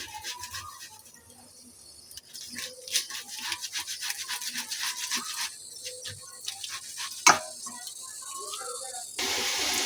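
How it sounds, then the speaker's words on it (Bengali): Potatoes rubbed against a kitchen grater, quick rhythmic scraping strokes that build after a quiet start, close and moderately loud, with a louder rush of noise at the end. "আলুগুলোও আমি গ্রেট করে নেব।"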